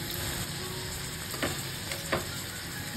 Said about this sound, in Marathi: आपण ही कोळंबी आहे ती इथे पलटून घेऊया आणि पुन्हा 3 मिनिटे फ्राय करून घ्यायची आहे